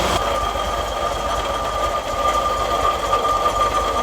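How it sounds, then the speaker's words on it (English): An MGB GT engine runs steadily at fast revs during carburettor tuning, a close, even mechanical whir with a faint whine and no speech. "we're going to adjust the revs down again now, because that's now revving too fast"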